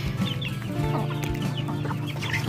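A Shamo hen clucks steadily with her chicks on a farm, soft repeated clucks mixed with thin high peeps, close by and continuous with no talking.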